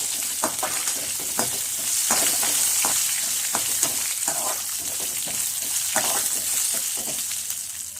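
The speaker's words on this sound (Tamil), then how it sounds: "பட்டை, லவங்கம், கஸ்தூரி பூ எல்லாம் போட்டு வதக்கணும்" A steady sizzle of cinnamon, cloves, fennel and dried fenugreek leaves sautéing in a pan for Bombay chutney, with repeated scraping and stirring clicks over the hiss; close and continuous, no talking.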